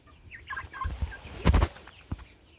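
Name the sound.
chicken clucking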